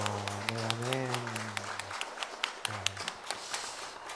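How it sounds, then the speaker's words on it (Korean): A church congregation claps after a special hymn performance. Scattered, fairly quiet claps come under a voice speaking, then thin out toward the end. "하나님 영광의 박수를 드리겠습니다."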